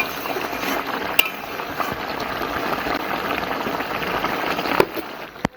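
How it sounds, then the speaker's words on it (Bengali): Fish head curry simmers in water in a pan, a soft, continuous bubbling and crackling close by, with a couple of sharper pops and no voices. "মাছের মধ্যে জল দিয়ে অল্প একটু ফুটিয়ে নেবো"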